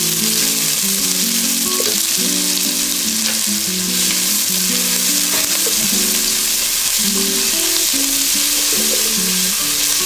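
Onions sauté in a hot oiled pan for chole, giving a loud, steady sizzle and crackle throughout with occasional stirring scrapes and no talking.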